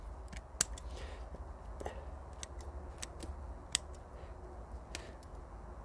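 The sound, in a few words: trimming bonsai roots with scissors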